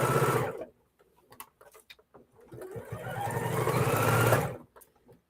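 A sewing machine backstitching fabric, heard as two close bursts of rapid mechanical stitching, one short at the start and a longer run toward the end, with quieter handling clicks and rustles between them.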